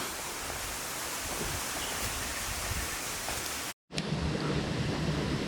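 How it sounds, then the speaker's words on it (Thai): Pha Sawan waterfall on a steep cave trail at Phu Langka, a steady broadband rush of falling water, close and loud, with one brief dropout near the end and no talking. "จุดนี้คือน้ำตกผาสวรรค์นะครับผม"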